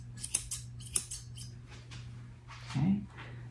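Scissors snip through a dog's fur just above the eyes during home grooming, a few sharp close cuts spaced irregularly over a steady low hum.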